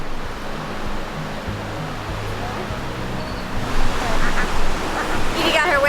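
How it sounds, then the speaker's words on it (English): Long, steady ocean waves wash onto the beach at El Zonte, El Salvador, as a constant surf hiss that swells louder toward the end, with some faint honking or voice-like sounds mixed in. "these waves are really long, they are consistent"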